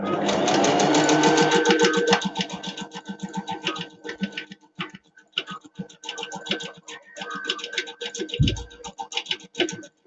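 A sewing machine stitches a zip-up bag in fast, steady rhythmic bursts, loud at first and then continuing in shorter runs with brief pauses toward the end.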